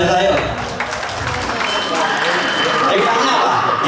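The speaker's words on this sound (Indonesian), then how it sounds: "Tepuk tangan dulu yang luar biasa yuk." Audience applause at a bank respondents' gathering in Lhokseumawe, a dense, steady wash of clapping filling the room for about four seconds, with crowd noise and voices mixed in.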